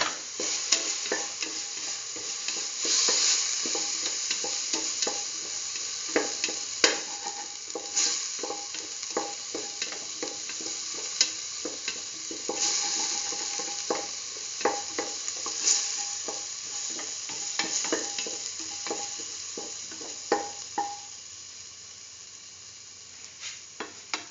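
Ginger garlic paste sautéing in a pan, a constant close sizzle with a steady run of quick scraping strokes from a spoon stirring it, no voices.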